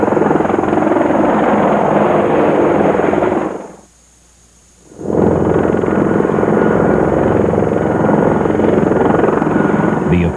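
An Apache attack helicopter flies close by, its loud rotor roar and engine rumble filling the air. The noise drops almost to silence for about a second midway, then returns at full strength.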